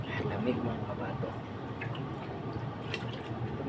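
Water drips and trickles steadily while an air conditioner unit is being cleaned, soft irregular splashes close by under a low background hum, with occasional speech.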